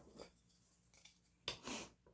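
A few short snips of scissors cutting a paper strip for a farmhouse journal, quiet and close, with a louder slicing cut near the end.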